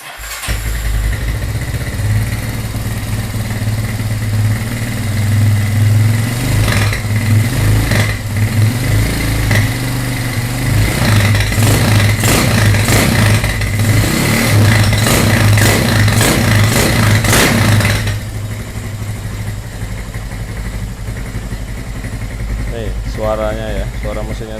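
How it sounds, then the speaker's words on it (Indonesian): A Honda GL100 motorcycle engine bored to 250 cc runs loudly and steadily close by in a small studio, with a stretch of rougher revving in the middle before settling back to a constant drone. "Suaranya ya, suara mesinnya seperti ini."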